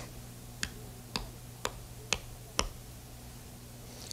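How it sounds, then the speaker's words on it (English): A 1970s ARP synthesizer sounds its noise source through a filter with a very fast attack envelope: five sharp, evenly spaced hissing clicks about half a second apart, fairly quiet, over a low steady hum. "Using noise as the sound source and allowing this envelope generator to open and close the filter, here we have set a very fast attack"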